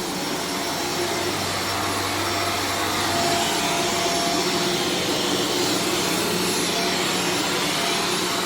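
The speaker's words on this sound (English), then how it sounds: "So Ray is starting out by vacuuming to remove any potential dry soil." Steady, loud vacuum cleaner drone runs continuously across commercial carpet in an office, a broad even roar with a faint high whine and no pauses or talk.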